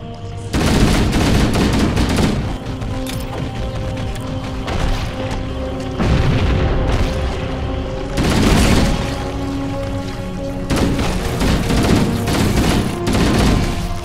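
Explosions and gunfire in Halo: Combat Evolved during the Maw mission, with an escape from the ship's overloading fusion engines. Loud booms and bursts of automatic fire recur in heavy clusters over a steady droning background.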